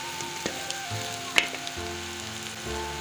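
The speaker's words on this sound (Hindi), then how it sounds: "मोंगरे फ्राई हो गए हैं, अब मैं मसाले शामिल कर रही हूँ।" Green beans frying in a pan as spices are added, a steady close sizzle with a few clinks and stirring scrapes, no talking.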